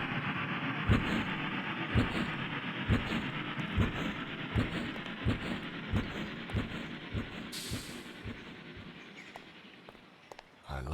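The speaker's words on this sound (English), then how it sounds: "Hurry up, the train's about to leave." A train at a station in the video game Amok Runner: a steady low rumble with hiss and regular rhythmic clacks of wheels over rail joints, continuous throughout at moderate level with no speech.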